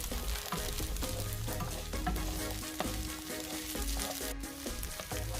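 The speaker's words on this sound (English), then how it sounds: "Add the onion to the pan, add the garlic to the pan, stir and cook for around 5 minutes till translucent" Onion and garlic frying in a pan as they cook to translucency, a dense continuous sizzle close by with occasional scraping clicks from stirring and no talk.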